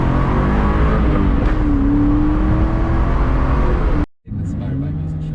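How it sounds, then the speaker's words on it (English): A 1997 Ford SVT Mustang Cobra engine revs hard and loud, a sustained rising roar that cuts off abruptly near the end before the engine note returns more quietly. "It doesn't have that torque down low, but this thing revs."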